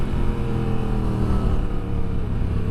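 A motorcycle is ridden on a freezing winter day, its engine drone steady and close with a slight pitch shift midway, mixed with wind rush and no speech.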